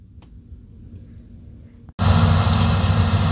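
A New Holland CX6.80 combine harvester with a roughly 280-horsepower engine, a standard walker model, harvests corn, its loud, steady broadband drone starting abruptly after a quiet stretch of faint background.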